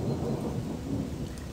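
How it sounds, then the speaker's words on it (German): Rain with rolling thunder in the video game Gothic 2, a steady low rumble and hiss of downpour, fairly quiet and alone without voices. "das sind sehr, sehr gute Regeneffekte übrigens."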